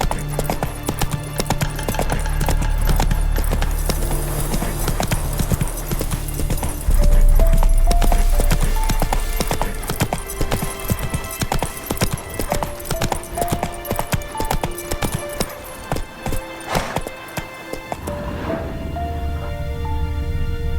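Roach, a horse in the video game The Witcher 3, gallops with a fast, steady clip-clop of hooves over background game music, and the hoofbeats slow and thin out near the end.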